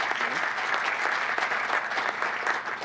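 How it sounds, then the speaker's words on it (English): Audience applause for a panel organizer at an attorney candidate event, a steady dense clapping from a crowd that fills the space evenly and continuously throughout. "Please give him a nice big round of applause."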